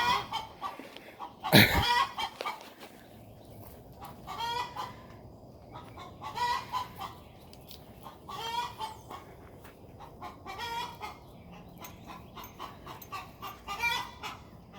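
Several chickens cluck in short repeated bursts around a farmyard, with a loud sharp crack near the start and a faint low background hum, no people speaking.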